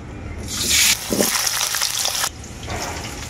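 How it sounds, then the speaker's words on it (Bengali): Potatoes hit hot mustard oil in a wok with a loud, close sizzling burst lasting under two seconds. The sizzle then drops to a quieter, steady crackling hiss. "আলুটা আমি ভেজে নেব।"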